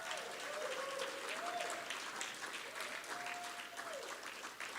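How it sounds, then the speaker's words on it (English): A crowd applauds first and second grade Royal Rangers and Girls Club award recipients, a sustained even wash of clapping across the whole stretch, with a faint tonal whine gliding underneath. "Give them a round of applause."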